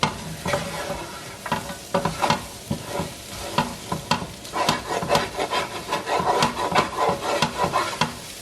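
Peppers with chilies and spices fry in a pan for chicken fajitas, a continuous sizzle broken by repeated scraping stirs of a spatula, close and fairly loud with no talking.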